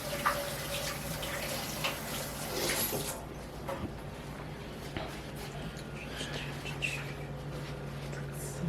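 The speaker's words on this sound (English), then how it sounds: "after I wash my hands" Hands are washed under a running tap before seasoning a pork butt for smoking, a steady close hiss and splash of water that stays even throughout, with faint bird chirps in the background.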